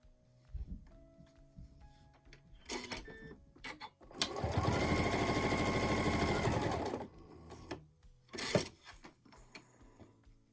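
A sewing machine stitching fabric pieces onto a small log cabin quilt block runs in one steady burst of about three seconds, framed by quieter handling clicks and rustles before and after.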